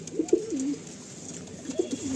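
Dobaj pigeons of tournament quality coo softly near their loft, two short rolling bouts of throaty calls, close and alone with no voices.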